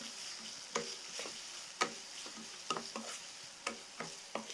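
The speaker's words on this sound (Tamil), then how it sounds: "வெங்காயம் மட்டும் கொஞ்சம் வதங்கணுங்க." Chopped onions frying in a pan on the stove for vegetable noodles give a soft, steady sizzle. Light stirring clatters and scrapes over it at intervals, close and fairly quiet.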